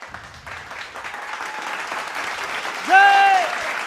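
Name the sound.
audience applause for Khandare sir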